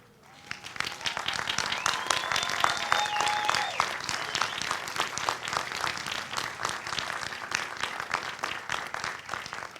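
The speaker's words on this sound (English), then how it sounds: "give a big round of applause for all your family" A large crowd of graduates at a commencement ceremony claps for their families, starting with a few claps and quickly building into sustained, full applause that stays strong throughout, with a faint whistle-like tone briefly above it.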